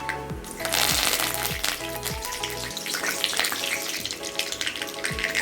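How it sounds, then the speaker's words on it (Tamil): Mustard seeds and curry leaves spluttering in hot oil for sodhi, a dense close crackle with sharp pops, joined by low repeated knocks of a spoon against the pan. "கொஞ்சமாக கடுகு போட்டுக்கோங்க. கடுகு நல்லா பொரிஞ்சதுக்கப்புறமா கொஞ்சமாக கருவேப்பிலை"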